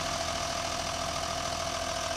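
A 2003 John Deere 6715 tractor, roughly 115 to 120 horsepower, low hours and freshly serviced, idles in a steady, continuous diesel rumble with a faint knock, heard alone at moderate level.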